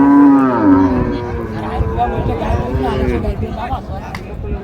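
A loud close moo from a dairy cow or calf of an improved milking breed at a cattle market opens, followed by fainter lowing under steady chatter from people nearby.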